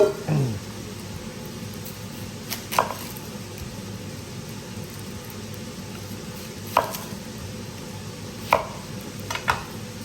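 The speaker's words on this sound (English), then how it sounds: "Onions chopped." A knife chops onions on a board over a steady background hum, giving a few sharp, isolated knocks spread several seconds apart.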